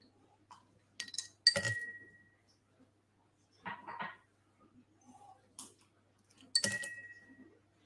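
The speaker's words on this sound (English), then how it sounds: "I'm going to chill the glass a bit with these little bits of ice and then tip that out" Small bits of ice clink against a drinking glass as it is chilled, with a few sharp, bright chinks in separate bursts amid quiet gaps and soft handling noises.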